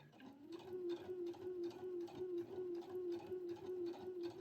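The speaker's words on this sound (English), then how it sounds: "now we are going to sew 1 cm from the edge." A sewing machine stitching a seam 1 cm from the edge on pants fabric, running steadily at close range with a rapid, even rhythmic whir and a constant motor hum, with no talking.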